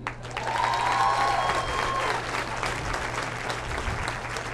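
Comedy club crowd applauding for a comedian, a loud full burst of clapping that swells early and then holds steady, with a brief whistle or cheer near the start.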